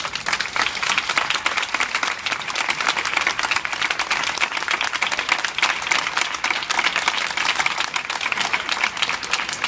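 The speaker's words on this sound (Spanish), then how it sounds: "Un fuerte aplauso para los dos." A crowd at a neighbourhood ceremony claps loudly for two people being honoured, dense continuous applause with slight swells and a few faint voices mixed into the clapping.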